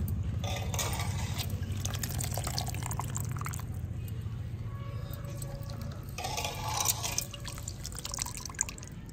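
Water drips steadily from soaked dahi bhalla dumplings being squeezed in a home kitchen, a soft continuous trickle and patter with faint background hum.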